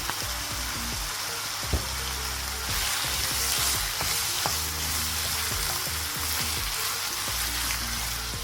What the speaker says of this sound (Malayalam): ഒരു രണ്ട് മിനിറ്റ് നമുക്ക് ഇതിലിട്ടിട്ട് വഴറ്റിയെടുക്കാം